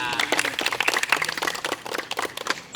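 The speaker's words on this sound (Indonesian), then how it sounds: "Tepuk tangan dulu teman kita" Schoolchildren in a class clap for a classmate, a loose, uneven burst of hand claps with distinct individual smacks, close and lively, fading in intensity toward the end.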